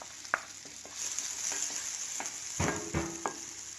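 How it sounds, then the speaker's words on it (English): Chopped garlic fries in melted butter in a kadai, a steady close sizzle broken by a few sharp stirring scrapes and clicks, with no talking. "Now the garlic is fried well in the butter."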